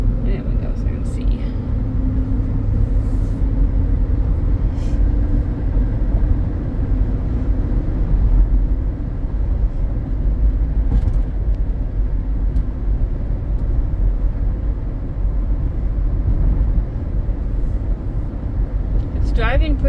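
A 2008 Pontiac Torrent drives on the road, heard from inside the cabin as a loud, constant low road and engine rumble. A muffled voice sits faintly under it.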